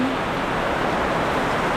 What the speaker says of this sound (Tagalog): Tapos yung ulan, grabe.